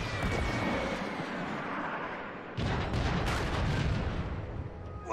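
Heavy tank guns shelling in the game Transformers: Fall of Cybertron, a dense rumbling barrage of booming blasts with a sharp, louder surge midway, continuous and close.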